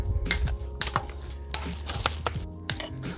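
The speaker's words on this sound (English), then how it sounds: "Start cutting some zip ties." Zip ties are cut off an electric scooter, giving several quick, sharp snips and plastic clicks at irregular intervals, close and crisp, with rustling between cuts.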